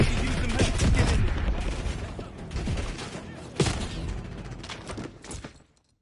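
Gunfire in the Black Ops 6 campaign, with bursts of automatic fire and scattered shots in a desert battle. The fire sounds close and loud and stays dense for several seconds before cutting off, with occasional voices in the mix.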